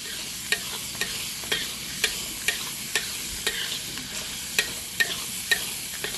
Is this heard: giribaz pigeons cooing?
no